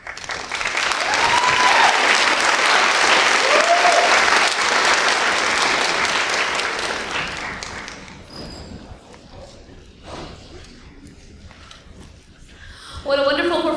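Loud, sustained applause from an audience at a college speech night fills the room after a student's talk on drones, then tapers off over several seconds into quieter room sound, with a brief burst of clapping returning at the end.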